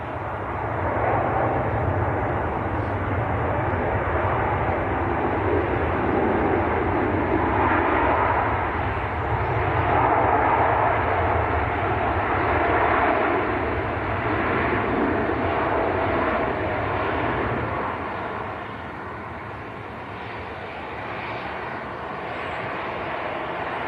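A Qatar Airways airliner arriving from Doha at Manchester Airport produces a long, steady engine roar that swells slightly in the middle and then eases off toward the end.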